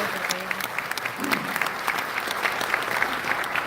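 Dense, sustained crowd applause at a New York community event honoring a state senator, steady and moderately loud throughout with no speech on top.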